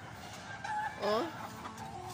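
Agitated chickens squawk and cluck in a brief scuffle, a sharp rising cry standing out among quieter background sounds.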